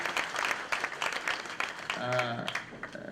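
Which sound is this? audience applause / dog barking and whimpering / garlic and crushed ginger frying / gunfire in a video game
audience applause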